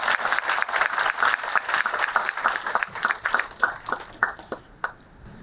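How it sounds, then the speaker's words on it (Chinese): An audience at a campus lecture on plant-based diets and climate claps to welcome a speaker, dense rhythmic applause that thins out and fades near the end. "现在，让我们用最热烈的掌声欢迎陈维华博士"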